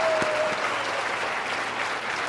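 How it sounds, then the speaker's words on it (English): Audience applause fills the room, a steady wash of clapping from a crowd at a live comedy-style show, continuous and fairly close for the whole stretch. "All right, big round of applause."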